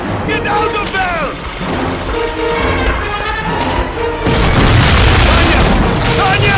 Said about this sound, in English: German bombers! Incoming!